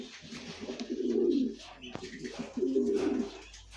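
Racing pigeons coo in two low, rolling bursts close by, a breeding pair of parent birds, with someone talking briefly between the calls.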